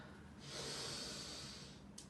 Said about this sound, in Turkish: Öncelikle derin bir nefes alıyoruz.